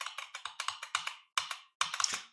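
Keys on a computer keyboard are pressed, including the Tab key, in a quick run of about a dozen crisp, close clicks that come in short bursts with brief pauses, with no talk.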